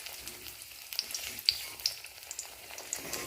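Soft, continuous sizzling of pointed gourd slices frying in oil, dotted with a few crisp pops and spits, close by and with no voices.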